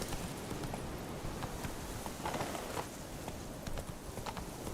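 Geralt's horse Roach trots along in The Witcher 3, her hooves clip-clopping in a steady, close rhythm over faint ambient background noise.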